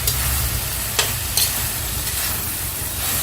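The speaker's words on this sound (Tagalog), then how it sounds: "yung ating ampalaya, sinunod na natin. So, halu-haluin din natin" Bitter gourd (ampalaya) pinakbet being stirred in a pan, a steady close sizzle with a couple of brief utensil scrapes against the pan.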